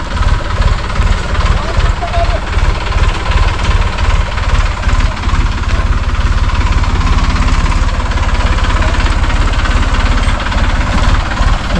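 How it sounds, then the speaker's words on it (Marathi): A farm tractor strains to climb out of a four-foot-deep pit in a field, its engine loud and close with a steady, rapid knocking throb that never lets up. "शेवटी ट्रॅक्टर निघाला."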